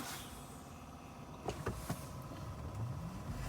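A Fiat 500e electric car pulls away at -7 degrees: a few mechanical clicks and thumps, then a faint motor whine that rises in pitch over a steady low cabin rumble.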